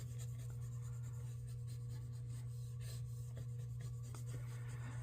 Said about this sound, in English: Let's just burnish down what's there.